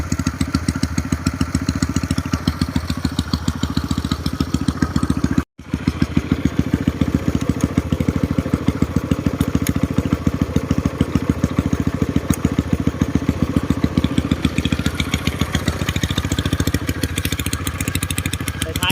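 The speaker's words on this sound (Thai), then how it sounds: "ทีเดียวติดนะครับครื่องขี่ดีนะครับ ของช่างเคนห้วยยางนะครับ" A tuned Honda Wave 125 motorcycle with a modified engine and exhaust runs loud and close, its steady, rapid, rattling putter continuing throughout apart from one brief cut near the start.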